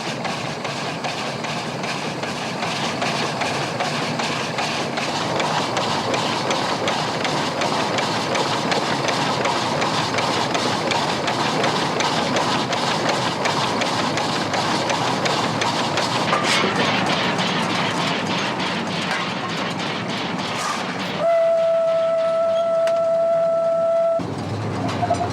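GKB 060 steam locomotive running through snowy Austrian villages, a loud, continuous rumble and rhythmic chuffing of a passing train that ends with a sustained steady whistle tone near the close.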